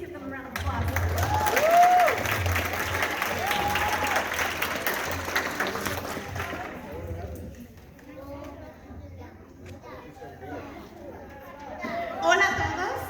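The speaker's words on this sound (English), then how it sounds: "Please give them a round of applause." An audience at a voter-pledge rally claps and cheers for legislators coming onto the stage. Loud, sustained applause fades to scattered clapping and chatter, with voices talking over it.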